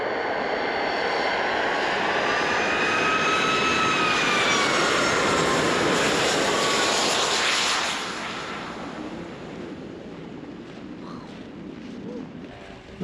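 A fixed-wing airplane's engine roars at the Union Glacier airstrip in Antarctica, a loud, steady broadband drone that holds for several seconds and then eases off as the aircraft moves away.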